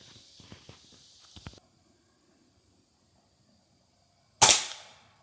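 A Gamo Whisper Fusion Mach 1 .22 air rifle fires a single BB-tip pellet, producing one sharp, loud crack that decays quickly, preceded by a few soft handling clicks and then a quiet pause.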